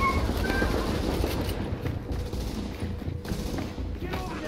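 Gunfire in The Division during the Clear Sky Incursion, dense and continuous across the whole stretch, with rapid overlapping shots at steady loudness and a faint voice underneath.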